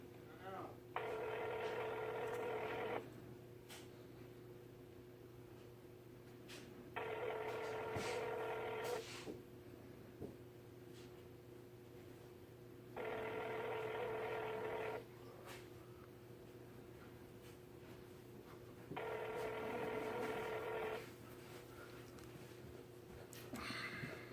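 A telephone ringing in repeated two-second bursts with pauses between, four rings in all, over a steady low background hum.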